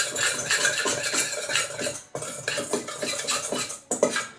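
Food is mixed in a bowl, with a steady scraping and clinking of a utensil against the dish in quick repeated strokes, paused briefly twice.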